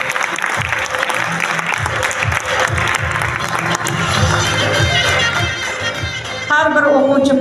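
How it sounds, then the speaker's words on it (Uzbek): Audience at a school awards ceremony for students applauds steadily, with clapping filling the room, some cheering and children's voices mixed in, and music swelling near the end. "Mana endi qarsillatib qarsakni chalsak bo'ladi."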